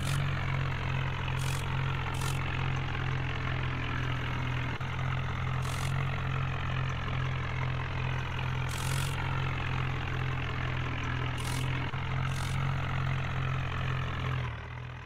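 A tractor engine idles in the Indian Vehicles Simulator video game, a steady low rumble held for the whole stretch, with faint higher clicks now and then.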